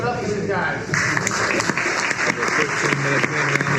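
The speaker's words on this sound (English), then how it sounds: "round of applause from the crowd." A crowd at a grappling invitational breaks into sustained applause that fills the whole stretch, while a commentator talks over the clapping.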